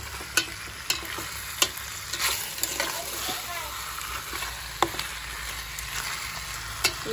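Meat stir-fried in a pan sizzles steadily, broken by sharp periodic scrapes and clacks of the stirring utensil against the pan.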